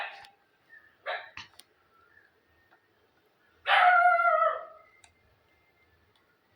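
A dog in a home setting gives a few sharp barks and yips close by, separated by quiet gaps, with one longer strained bark near the middle.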